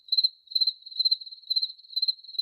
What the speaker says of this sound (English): Well, okay, crickets again.